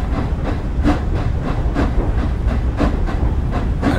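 A steam locomotive rolling along in the Train Sim World 4 game, with loud, steady rhythmic chuffing and clacking beats repeating about twice a second over a continuous rumbling hiss, with no voices.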